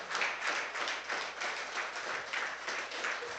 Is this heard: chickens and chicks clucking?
no